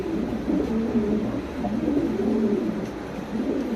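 Spanish pouter pigeons coo steadily in low, rolling, throaty phrases, close by and continuous, with no talking over them.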